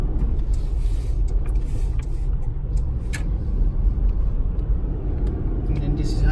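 A manual Nissan Xterra accelerates through a gear change, its engine a steady low rumble with road noise, continuous and close throughout.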